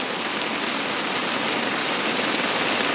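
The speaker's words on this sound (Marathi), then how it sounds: "भारी पाऊस पडतो रे भारी वाटते" Heavy rain pouring steadily onto a surface outdoors in farm fields, a dense, continuous hiss of countless drops that stays loud and even throughout with no voices.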